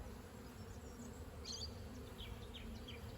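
Honeybees hum in a steady, close buzz during a spring hive inspection in Australia, the colony droning continuously with no talking.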